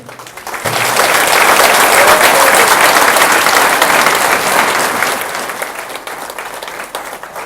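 Audience applause for community staff and school partners at a local services event, a sustained burst of many hands clapping that swells quickly, holds steady, then thins slightly toward the end.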